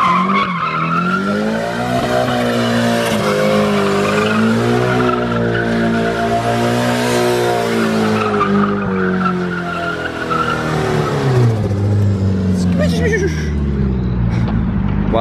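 A car spins donuts, its tires squealing and skidding in long wavering tones over the engine's rising and falling drone, close and loud. People talk and shout across it.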